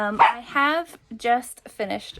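A pet dog barks a few times indoors, short sharp yaps in bursts close by, mixed with a person talking.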